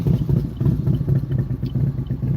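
A motorcycle passing on a road near a car on an interstate, giving a close, steady, throbbing engine putter with a clattering beat, heard from inside the car with no talking.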